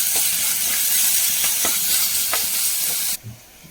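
Ginger, garlic and curry leaves sauté in hot oil with a steady close sizzle and light scraping stirs, and the sizzle cuts off abruptly near the end, leaving a quieter pan with one soft clatter.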